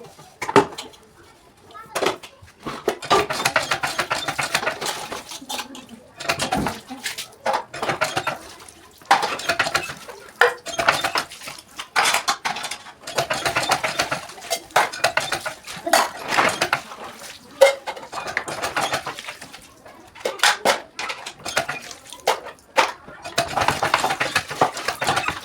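Dishes are washed at home in the evening, with pots and cutlery clattering and clinking almost nonstop in close, uneven bursts for about 25 seconds.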